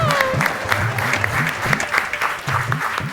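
Audience applause: sustained, dense clapping with a steady rhythm, loud and close, while a voice murmurs faintly beneath it.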